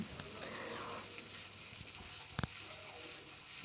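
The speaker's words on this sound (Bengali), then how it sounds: "এবার মশলাটা আমি কষিয়ে নিচ্ছি" Spice paste sautéing in a pan for Bengali cabbage ghanto, a soft steady sizzle with faint stirring scrapes and a couple of sharp clicks near the end.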